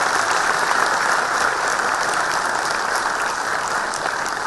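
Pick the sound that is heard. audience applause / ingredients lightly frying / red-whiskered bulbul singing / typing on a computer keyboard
audience applause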